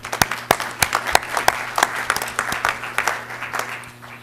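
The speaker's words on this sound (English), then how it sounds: "Maybe we can give a round of applause for all that hard work you did for us with the Guard." Applause at a city commission meeting, a modest roomful of people clapping with distinct individual claps standing out in an uneven, pulsing rhythm over a steady low electrical hum.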